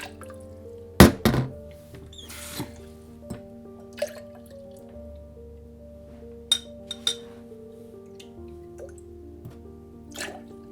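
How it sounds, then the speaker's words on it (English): Enamel and water are poured back into a narrow glass, giving scattered drips, splashes and clinks of glass. The sounds are close and intermittent over quiet room tone. "I use a squirt bottle and then I can just pour it back easily"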